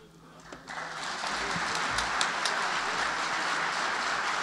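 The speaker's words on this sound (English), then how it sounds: "Give another big round of applause" An audience at a conference breaks into applause that swells within the first second into a sustained, dense patter of many hands clapping. It sounds moderately distant and continues evenly to the end.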